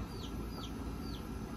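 A rooster clucks a few short times above a constant background of farmyard noise. No one speaks.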